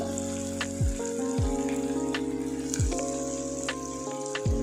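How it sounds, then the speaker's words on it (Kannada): Cauliflower (gobi) pieces deep-frying in hot oil for gobi manchurian give a steady, close sizzle, joined by a low humming drone with occasional swooping tones. "ಗೋಬಿನ ಫಸ್ಟ್ ಎಣ್ಣೆಯಲ್ಲಿ ಫ್ರೈ ಮಾಡಿ ಇಟ್ಕೊಳ್ಳೋಣ"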